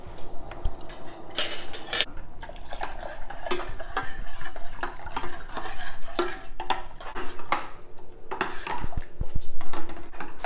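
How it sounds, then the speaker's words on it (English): A spoon stirs thickening cornstarch sauce in a hot pan, making repeated close scrapes and clinks against the metal over a light sizzle, with no talking. "I'm going to add the cornstarch liquid, and you have to keep stirring this"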